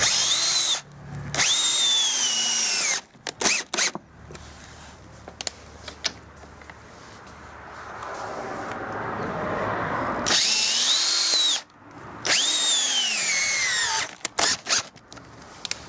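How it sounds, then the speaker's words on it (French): Power drill driving screws into a PVC window frame, several loud whirring bursts of a few seconds each with short pauses between, close up with no talking. "Donc du coup on a vissé le cadre, 3 vis de chaque côté."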